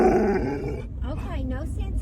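A dog gives a low, rough growl up close, with a short grumbling vocalization toward the end, and no talking.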